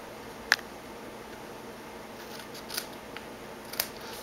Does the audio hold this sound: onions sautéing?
no